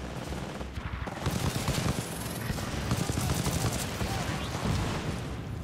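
Automatic gunfire from the video game Titanfall 2 rattles in fast, loud bursts as enemies' battery packs are shot, a continuous close fusillade with a voice faintly underneath.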